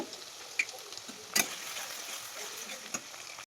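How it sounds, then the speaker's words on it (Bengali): Chopped onions frying in oil for a puffed-rice ghonto dish give a steady, soft sizzle throughout, broken by a few sharp clinks from a utensil, with no talk. "পেঁয়াজটাকে বেশ কিছুক্ষণ লাল লাল করে ভেজে নেব।"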